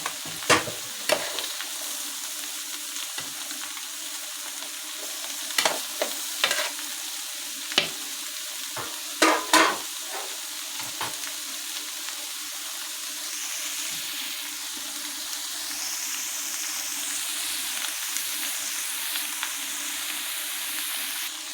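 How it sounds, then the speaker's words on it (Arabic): Onion and tomato hitting mumbar frying in a tray, an even sizzle with a run of sharp clattering stirs and taps early on, fading to a softer steady fry. "عايزين ندي للممبار كده برده شويه بصل وطماطم كده. اخر حاجه معايا في الصينيه نرميهم بقى كلهم"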